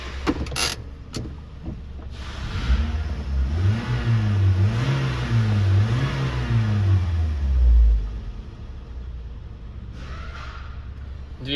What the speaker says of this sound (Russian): Двигатель работает ровно, обороты не плавают.